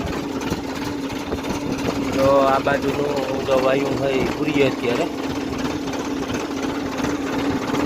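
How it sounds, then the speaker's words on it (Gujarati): A tractor engine idles and runs steadily during field-leveling work, a continuous mid-pitched rumble with slight knocking, while someone talks over it nearby. "હમણાં જો આપણે જમીને ટ્રેક્ટર પાછું ચાલુ કર્યું"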